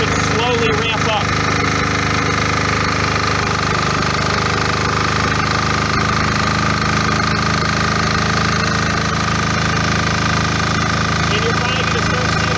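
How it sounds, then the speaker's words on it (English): A military MEP 831A diesel generator engine runs loud and steady under an applied electrical load, a continuous droning rumble with rattling mechanical texture filling the whole stretch. "the engine should slowly ramp up"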